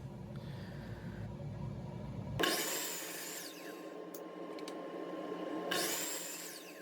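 Scrap wood pieces being cut with a power saw in a shop: a low hum gives way to a sharp whining cut at about two and a half seconds, followed by a steady motor drone and a second cut near the end.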